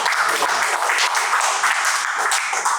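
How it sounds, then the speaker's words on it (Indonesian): Steady, dense applause from an audience at the soft launch of KAHMI TV, a continuous hiss of many hands clapping at even loudness throughout, with faint voices underneath at the start. "terima kasih dan tepuk tangan buat"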